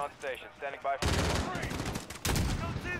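A sniper rifle fires in the video game Call of Duty: Modern Warfare, giving one loud, sharp blast with a booming tail, followed by a second burst of gunfire near the end.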